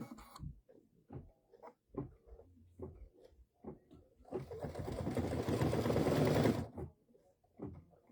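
Baby Lock embroidery machine stitching a design in the hoop, preceded by soft clicks and taps, then a loud buzzing run of rapid stitching for a couple of seconds before stopping.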